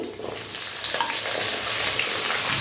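Potatoes and cauliflower stalks fry in hot oil, a continuous close sizzle that grows slightly louder as the stalks go in, with faint stirring scrapes and no talk.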